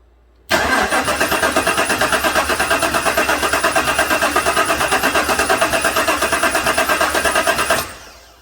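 A 2017 GM truck's 5.3 V8, which has a misfire and engine tick, cranks on its starter via a relay switch for about seven seconds, a steady rhythmic whirring churn that never catches, then stops abruptly.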